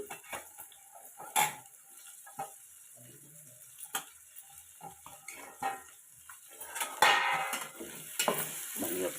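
Carrot and potato pieces stirred into softened vegetables in a pan for veg pulao, giving scattered scrapes and clinks of a spoon against the metal with a light sizzle, irregular and fairly quiet, no talking.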